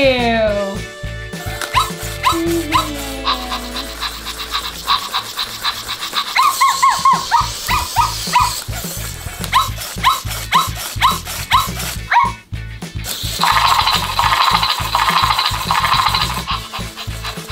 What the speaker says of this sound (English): He's a really cool robot dog, huh?